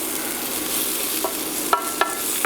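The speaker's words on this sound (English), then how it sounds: "And we're just going to stir that around." A wooden spoon stirs vegetables in a non-stick pan for a vegetarian frittata, giving a few soft, separate scrapes and knocks over a faint background hiss, close and fairly quiet.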